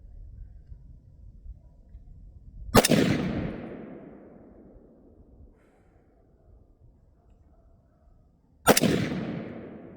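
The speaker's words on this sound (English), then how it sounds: "I went with a suppressor for this gun for several reasons. You know, first was to dampen that sound report" Two suppressed shots from a highly accurate rifle ring out several seconds apart, each a sharp muffled crack followed by a decaying tail, with quiet breathing and handling noise between them.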